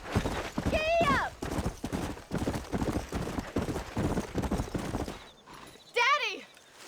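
A horse gallops in Red Dead Redemption, its steady clip-clop hoofbeats running throughout, with a loud whinny near the start and another near the end. Voices seem to be present as well.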